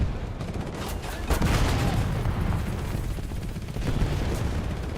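Explosions and gunfire in the video game War Thunder rumble in a dense battle mix, with sharp blasts near the start and later, over a continuous low roar.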